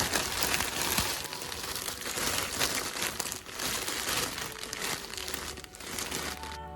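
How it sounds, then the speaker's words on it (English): Dry moss handled for a craft project crackles and crinkles close up, a continuous, dense rustling texture with no talking. "please enjoy a couple seconds of some mossy ASMR"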